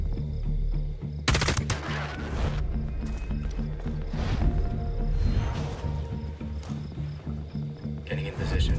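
Ghost Recon Breakpoint game combat, with rapid gunfire bursts over a dense, busy soundscape and ongoing radio-style voices talking.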